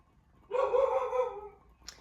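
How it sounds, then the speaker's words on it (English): A single dog bark-like yelp, fairly close and sustained for about a second, followed by a brief faint sound, with no talking. "I apologize for the barking in the background"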